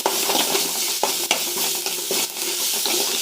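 Green chillies sizzle in a hot pan while a utensil stirs and scrapes against it, with occasional clinks, close and steady.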